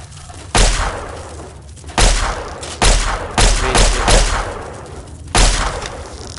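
Heavy gunshots in Fallout 3, about five loud, separate blasts spaced roughly a second apart, each with a short rumbling tail and no voices in between.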